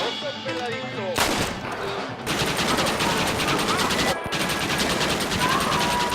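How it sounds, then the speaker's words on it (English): Loud, metallic, rough gunfire from the Red Dead video game, with dense rapid bursts and a few sharp cracks, all under a continuous music or ambience bed. "The weapon sound effects sold the feeling of the time."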